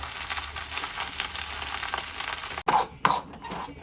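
Ground coconut paste goes into a moringa leaf curry with a steady close sizzle and stirring scrapes, and the sound briefly cuts out before sharper spoon strokes near the end.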